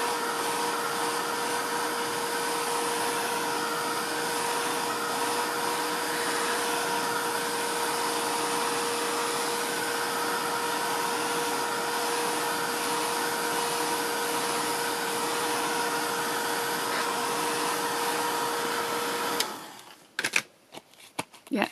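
A heat tool blasts steadily to dry decoupage glue on tissue over a gesso background, a loud constant whooshing hum for about nineteen seconds, then cutting off into a few faint handling knocks.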